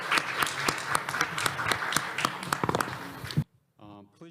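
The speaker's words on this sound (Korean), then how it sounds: "좌장님과 패널 분들께 감사의 박수 부탁드립니다." A conference audience applauds after a panel session on environmental crisis and social inequality, a sustained round of dense clapping that stops abruptly, followed by a brief spoken voice.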